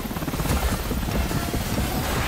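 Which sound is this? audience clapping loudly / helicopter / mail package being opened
helicopter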